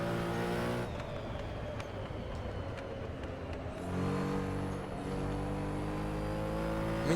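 A race car engine in a driving video game, whining steadily at high revs with its pitch sliding and shifting between gears, loud and close with no talking.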